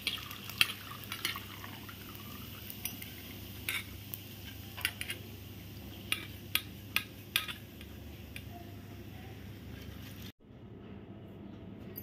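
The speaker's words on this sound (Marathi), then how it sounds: "आणि टाकला की असं चमच्याने लगेच ढवळायचा, म्हणजे सगळीकडे चांगला तळला जातो।" Grated potato frying in hot oil in a pan is stirred with a spoon: a constant sizzling hiss with scattered metallic clicks and scrapes, before the sound briefly cuts out near the end.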